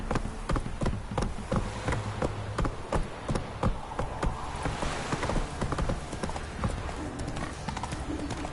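Horse hooves clip-clop in a steady, rapid rhythm as Roach gallops in a PS4 video game, the hoofbeats loud and close with faint insect-like buzzing behind them.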